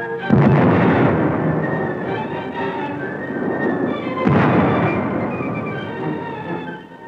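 Repeated heavy gunfire and booming blasts from the 1939 siege of the Danzig post office by militiamen, a dense, rumbling barrage with a sharp burst near the start and another midway, filling the whole stretch.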